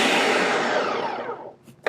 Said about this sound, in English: now I'm gonna go ahead and start blending